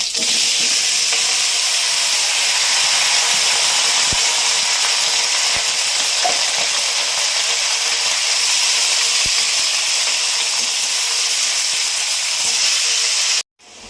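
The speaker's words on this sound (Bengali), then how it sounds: "দিয়ে দিচ্ছে একটু আদা বাটা, পালং শাকগুলো দিয়ে দিচ্ছি" Ginger paste and spinach frying in a hot pan give a broad, steady sizzle and hiss close by. Occasional faint clicks of stirring sound under it, and the sizzle cuts off abruptly at the end.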